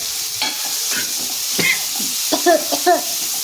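Onions hit a very hot pan on a high-speed stove, giving a steady close sizzle with intermittent stirring scrapes and clatter over a few seconds, no talking.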